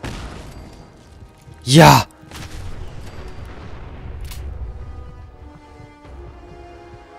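A grenade bursts in Fallout 4 during a fight with a Mirelurk Queen, one loud, short blast near the start followed by quieter game ambience, with a voice exclaiming briefly.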